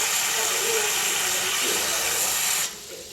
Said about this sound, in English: So we're just going to fill it up with water